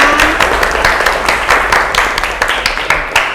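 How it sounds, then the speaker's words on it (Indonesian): Schoolchildren in an Indonesian classroom clap together in a steady, dense burst of many small hands, loud and close, lasting a few seconds. "Tepuk tangan."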